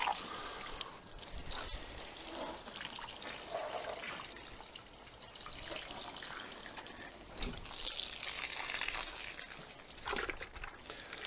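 Water from a hose trickles and runs off a freshly polished car, a faint, continuous splashing and dribbling with a few louder gushes, no one speaking.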